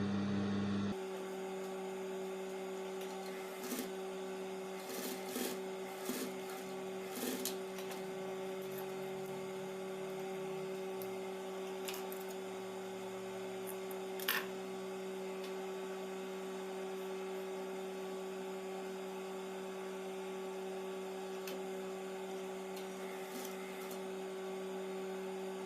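A sewing machine stitches pieces of red fabric for a patchwork quilt, its motor giving a steady, close hum throughout with a few light clicks and taps early on.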